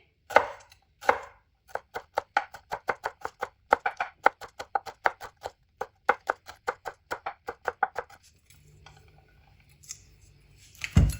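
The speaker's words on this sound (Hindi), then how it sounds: "अब ग्रीन चिली की भी कटिंग कर लेंगे।" Rapid, steady knife chopping green chilies on a board, dozens of crisp close strokes in an even rhythm, then a short pause and one final chop.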